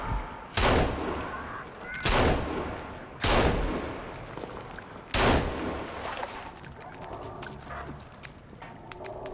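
Four loud, booming pistol gunshots in the video game Sons of the Forest, fired about a second apart with short decaying tails, followed by quieter rustling and movement.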